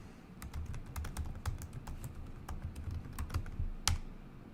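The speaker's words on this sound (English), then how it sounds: "Go ahead and type in your account." Rapid keystrokes tapped on a computer keyboard while entering account details into a browser sign-in page, a close, steady patter of clicks with a few sharper key hits and no talking.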